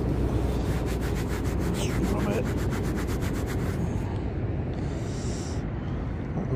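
A dug-up coin from a metal detecting hunt is rubbed clean, producing a close, continuous gritty scraping and rubbing against a steady outdoor background noise.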